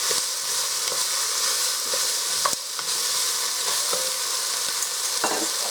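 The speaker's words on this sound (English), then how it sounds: "I'm going to toss in my carrots. I'm going to saute them up a little bit." Carrots and yellow sweet pepper sauté in a soup pot, making a continuous close sizzle broken by a few sharp stirring clicks and scrapes of the spoon against the pot.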